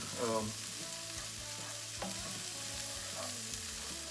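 Pre-cooked lentils warming in a pan give a steady, moderate sizzle throughout, with a few soft spoon stirs and scrapes and faint background hum.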